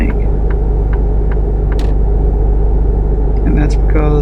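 A repaired truck driving in American Truck Simulator, its engine giving a constant heavy low rumble that never lets up, with a few faint clicks and a short higher whine near the end.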